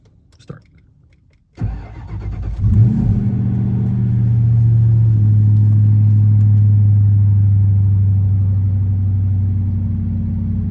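A manual car's engine cranks and catches after a faint click, then settles into a loud, steady low rumble with slight revving, heard up close and alone.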